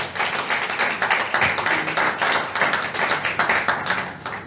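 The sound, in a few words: audience clapping at a book launch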